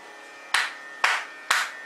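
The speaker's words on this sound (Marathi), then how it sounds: "अशी 3 टाळ्या वाजवल्या" Three sharp single hand claps, evenly spaced about half a second apart, each loud and crisp against a quiet background with a short decay.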